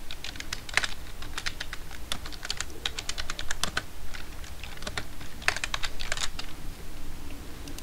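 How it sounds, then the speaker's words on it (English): Steady, rapid typing on a computer keyboard, with crisp key clicks in quick bursts and short pauses, fairly close and alone with no voices. "Click this and just type the movie name."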